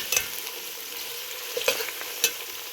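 Onions frying in a pan while being stirred, a low steady sizzle broken by several sharp scraping clicks of the spoon against the pan, close up and with no talking.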